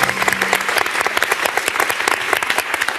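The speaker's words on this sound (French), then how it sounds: "Continue à applaudir" A TV quiz show studio audience claps loudly and continuously, with sharp individual claps dense and close, and a brief low hum at the start.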